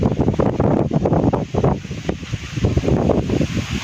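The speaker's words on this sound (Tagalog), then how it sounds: "habang napakalakas po ng hangin ngayon" Strong wind in Taiwan buffets the microphone in heavy, uneven rumbling gusts, loud and close, with rustling underneath.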